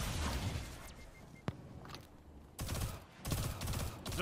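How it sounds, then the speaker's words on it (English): Burst fire from the MIDA Mini-Tool weapon in the Destiny 2 video game, with dense rapid gunfire at the start and again near the end, a sharp single crack between them, and a busy game background. "Burst firing the weapon, yay! Burst fire for the win."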